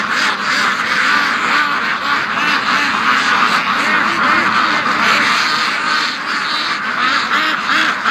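Free-range ducks crowd close by on land near water, quacking continuously in a dense, overlapping chorus that stays loud throughout with no break.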